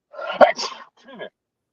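A single close, sharp human sneeze during an indoor conversation, with a short bit of speech right after it.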